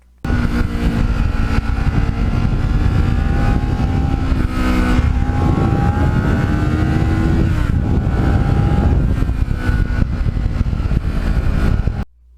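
A restored black and gold Kawasaki Ninja motorcycle rides a twisty road with a steady, loud engine drone that rises and falls slightly in pitch as the throttle shifts, running continuously without pause.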